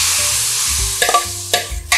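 Seasoned vegetable namul is stir-fried in a pan, with a soft sizzle and spatula scrapes building to a couple of louder clinks near the end.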